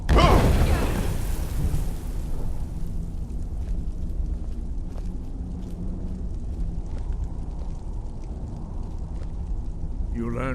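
A Skyrim dragon shout (Thu'um) erupts with a loud booming blast at the start, then rumbles on as a long low roar that slowly fades.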